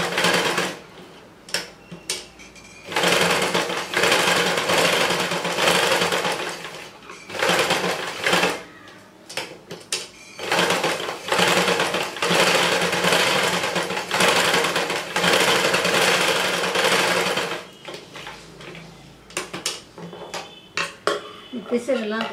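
A sewing machine stitching a simple neck design in fabric, running in loud, rapid rattling bursts of several seconds each, separated by short pauses and small handling clicks, close to the microphone.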